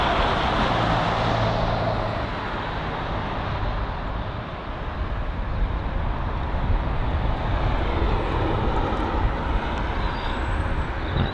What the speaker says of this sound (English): the A320 Neo pulling into the gate area